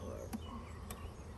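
Honey bees buzz at an open hive during a week-four inspection with organic mite treatment, a steady low drone of many insects with a couple of brief sharper passes close by.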